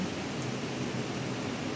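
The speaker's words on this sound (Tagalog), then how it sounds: "Yung ulan." Steady rain falls in a dense, even hiss with no voices, a continuous soft wash of drops throughout, ahead of an approaching typhoon.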